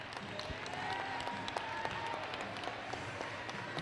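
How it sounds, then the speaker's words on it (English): Crowd applause for a 1993 high school basketball team, a steady wash of clapping from a gym audience at moderate level with a few sharper claps poking through, no clear talking. "Let's give this 1993 team a round of applause."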